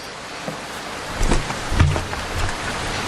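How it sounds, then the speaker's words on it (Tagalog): Rain in an audio drama scene: a constant wash of falling rain with a few louder gusts and low rumbles, no voices over it. "naabutan pa rin ako ng ulan"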